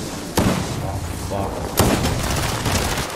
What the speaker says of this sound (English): someone's shooting at me in the air